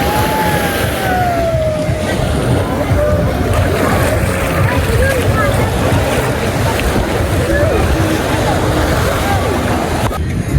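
Sea waves rolling onto a Mauritius beach, washing continuously beneath gusts of wind buffeting the microphone, with faint voices and background sounds mixed in.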